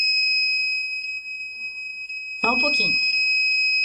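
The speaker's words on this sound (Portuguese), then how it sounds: "É o alarme." A steady electronic alarm beeps in a radio studio with sharp, constant high tones running the whole time, and someone speaks briefly over it near the end.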